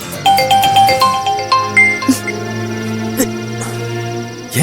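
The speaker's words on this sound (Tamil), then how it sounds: "இவன் எதுக்கு இப்போ ஃபோன் பண்றான்?" A melodic phone ringtone for an incoming call plays loud and alone in a Tamil television serial scene, a chiming tune of repeated rising and falling notes that sustains and rings on.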